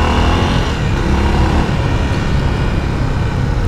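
A Honda XR 300L Tornado 2025 motorcycle riding through city traffic, its engine droning steadily beneath heavy wind rush and road noise, loud and constant throughout with no talking.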